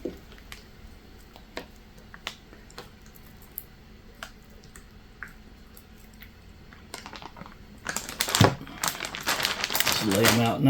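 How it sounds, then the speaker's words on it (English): Steaks go into a 1-gallon Ziploc bag, with faint light taps and handling at first and then loud, close plastic crinkling and rustling toward the end. "we're going to go ahead and put them in our baggie, the 1 gallon Ziploc baggie"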